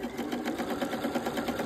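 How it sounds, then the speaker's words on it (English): A sewing machine runs steadily, stitching a quarter-inch seam along the sides of a quilt block, producing a fast, even mechanical whirr and rapid needle chatter, close and without talk. "And here I go sewing up a 1/4-inch seam on my sides."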